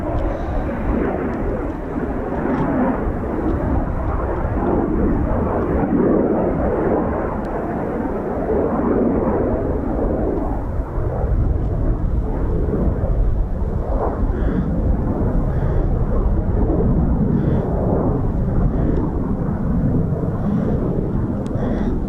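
An RAF Eurofighter Typhoon FGR4 jet coming in to land at RAF Coningsby, a loud continuous roar of jet engine noise rumbling steadily throughout with no talk over it.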